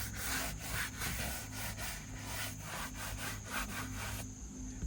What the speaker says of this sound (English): You need a soft bristle brush for this, just like the one I'm using.